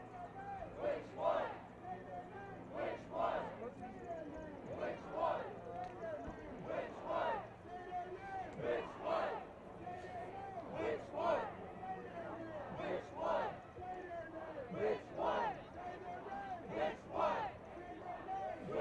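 A street protest crowd at night, rhythmic rising and falling chanting from many voices repeating in steady waves, moderately distant and continuous throughout.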